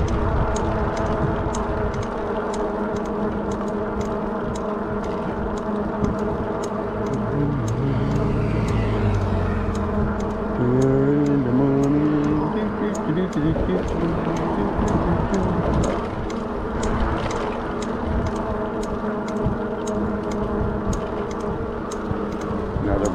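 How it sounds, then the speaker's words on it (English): A car approaches and passes an Ecotric e-bike riding along a road at Cocoa Beach, its engine swelling and fading under constant wind rush and the bike's steady whir. "Car coming."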